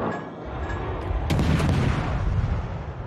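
A warship's main guns fire in World of Warships, a heavy booming salvo rolling over a low rumbling background, with a sharp blast partway through that decays slowly into a long echoing roar.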